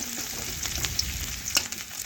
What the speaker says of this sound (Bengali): পেঁয়াজটা নাড়াচাড়া করে লাল লাল করে ভেজে নিয়ে বাকি মশলাগুলো আমি পরপর দিয়ে দিচ্ছি